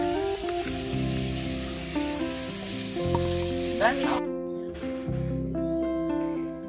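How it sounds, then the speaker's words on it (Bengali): Steady sizzling of fish frying in hot oil, continuous and fairly close, with light clinks of a utensil and a soft music bed underneath. "মাছ ভাজা।"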